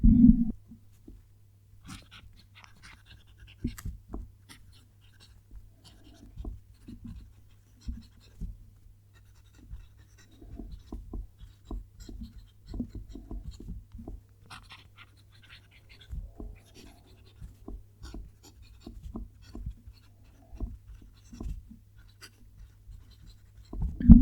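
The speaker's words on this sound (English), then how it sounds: "I'll have the mic down near the page so you can hopefully hear that pen write" A fountain pen scratches across paper at close range in soft, irregular strokes with small pauses, quiet and steady throughout.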